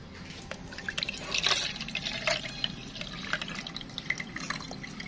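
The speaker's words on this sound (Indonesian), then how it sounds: "kita akan saring ya, takut ada endapannya sebelum kita taruh di botol" Homemade JADAM sulfur solution is strained before bottling, giving a faint, steady trickle and irregular drips of liquid close by, with no talk.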